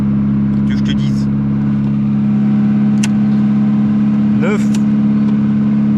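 A Volkswagen Golf 2 with a Weber carburettor idles with a steady, loud low hum, and someone talks over it throughout.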